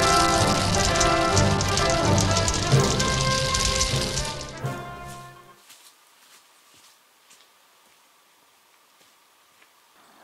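Steady rain pattering on surfaces outdoors, dense and fairly loud for about five seconds before it suddenly drops to a faint, sparse dripping.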